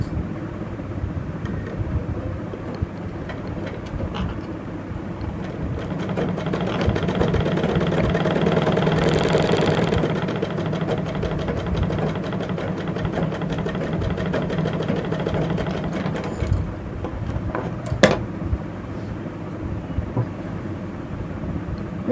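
A sewing machine runs close by as a stitch is laid next to a missed one during tailoring, a steady mechanical whirr that swells in the middle before easing back.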